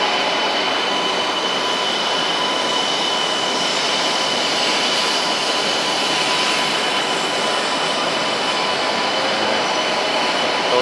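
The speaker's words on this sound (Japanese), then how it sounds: "1個前の新幹線来ました" A Shinkansen bullet train pulls into a station in Echigo-Yuzawa, giving a steady loud rushing roar of wheels and air with a faint high whine held throughout.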